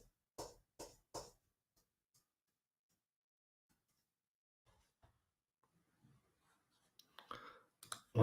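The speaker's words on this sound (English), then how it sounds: "I'm clicking the keys." Sharp computer keyboard key clicks during a gaming session: three quick taps near the start, a long quiet stretch with faint ticks, then a denser burst of clicks close at the end.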